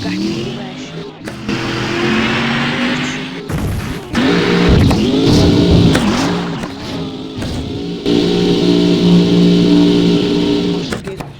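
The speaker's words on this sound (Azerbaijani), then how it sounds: "Maşın gelir." A Bugatti approaches with its engine revving in loud, rising surges that come in several bursts and swell close by, with people talking over the noise.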